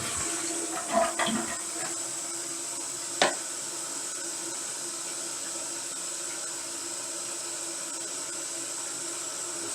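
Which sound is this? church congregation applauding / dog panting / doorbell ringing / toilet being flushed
toilet being flushed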